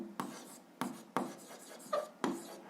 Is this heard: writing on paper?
yes